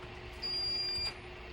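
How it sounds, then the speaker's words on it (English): A single high electronic beep from a heat press signalling it is done, lasting under a second over a quiet hum, fairly faint and close. "Again, it's beeping"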